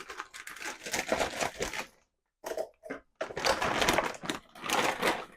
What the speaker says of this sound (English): Just going to bust this open with a pair of scissors